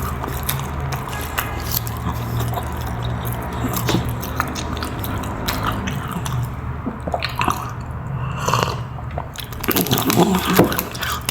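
Someone bites into and chews soft siopao bread up close, with moist squishy chewing and small crunches continuing over several seconds, loud and close to the mouth.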